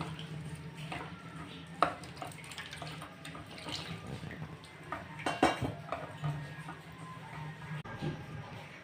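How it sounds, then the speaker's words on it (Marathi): Liquid trickles softly through a kitchen strainer into rice flour mixed with turmeric for spicy shev batter. The pour is faint and close, with light clinks of utensils and one or two sharper knocks. "तर बघा हे गाळणीनं असं या पिठामध्ये ओतूया"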